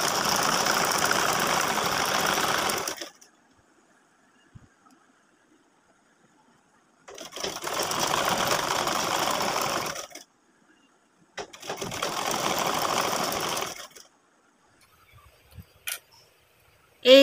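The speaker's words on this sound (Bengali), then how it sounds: "আর এভাবে আমি এখানে ডাবল সেলাই করে নিব।" A sewing machine double-stitches a garment sleeve in three steady whirring runs of a few seconds each, close and loud, separated by near silence.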